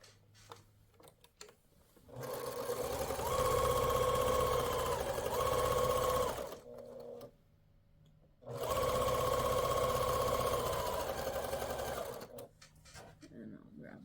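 A sewing machine stitches quilt block seams, running in two long steady bursts with brief pauses, the motor whirring close and loud, with faint handling noises before and after.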